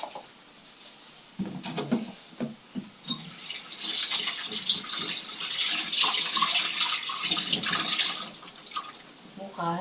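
Water runs steadily from a tap into a container, a broad rushing hiss that swells and holds for several seconds after a few short knocks and handling sounds at the start.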